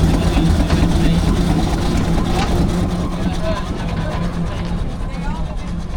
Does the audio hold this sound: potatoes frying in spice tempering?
no